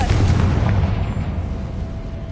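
A Confringo blasting spell in Hogwarts Legacy goes off as one loud, close explosion with a heavy low boom that decays into a rumbling tail over about two seconds.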